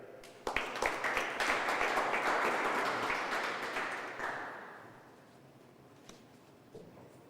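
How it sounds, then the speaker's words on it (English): A conference audience breaks into applause, loud and sustained for several seconds before thinning out into a few scattered last claps. "Let's give him a big round of applause, ladies and gentlemen."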